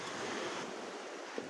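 Gentle, low surf washes steadily at a quiet beach during low tide on a warm day, a soft continuous hiss with faint wind and a small splash near the end, heard alone without voices.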